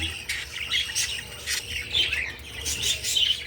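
Pet breeder birds, rainbow and violet parakeets, chirp and squawk in an aviary, with several overlapping high calls in quick, irregular bursts close by and no talk.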